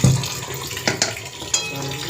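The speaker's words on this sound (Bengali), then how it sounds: "একটু ঠান্ডা জলও দেবো এতে" Cold tap water running steadily over strained chow mein noodles in a kitchen sink, a continuous close splashing stream with a few brief louder splatters.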